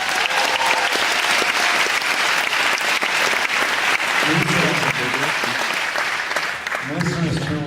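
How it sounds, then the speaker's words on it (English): Loud, sustained audience applause for an actress at a film festival, a dense roar of clapping that carries on while voices begin speaking over it toward the end. "Please give her a round of applause."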